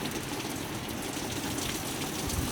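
Wind-driven rain from Hurricane Dorian in Halifax, Nova Scotia pours down as a dense, continuous hiss of drops hitting the ground, fairly soft and steady, with no voices.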